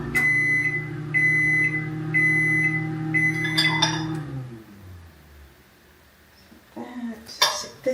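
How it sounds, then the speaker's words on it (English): A microwave oven hums steadily with a few timer beeps as queso heats, then stops; the hum ends and the door and dish clatter close by at the finish. "Stick this in the microwave because I like my queso either room temp"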